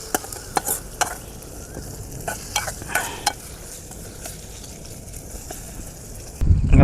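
Corn chevdo spiced with crushed chilli being stirred as it fries in a pan at a village farm, steady sizzle with several scraping clicks of the spoon and a louder burst near the end.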